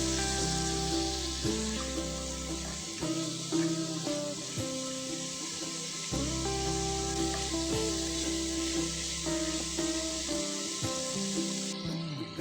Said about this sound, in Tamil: அடுத்து நறுக்கி வச்சிருந்த 2 தக்காளியை இதோட ஆட் பண்ணிக்கிறேன். ஸோ நல்லா வதக்கி விட்டுக்கோங்க.